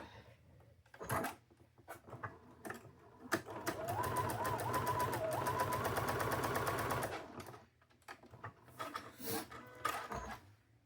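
A sewing machine stitches folded quilting fabric in a rapid, even mechanical rattle for about three seconds, with quieter handling clicks and fabric rustles before and after.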